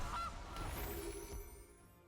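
Cartoonish goose honk from a digital card game, sounding a couple of times up close over steady game background noise.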